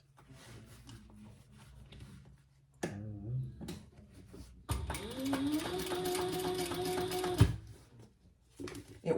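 A sewing machine top-stitches a fabric bag in short bursts, first a few brief stitches, then a sustained steady whirring run of needle strokes, stopping abruptly near the end.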